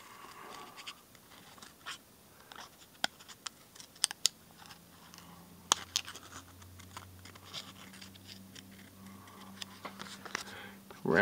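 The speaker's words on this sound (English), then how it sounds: "So what I need to do now is just trim it up a little bit more." A DPX HEAT survival knife is used to trim skateboard grip tape wrapped on it, producing scattered scratchy cuts and sharp snips with intermittent talk.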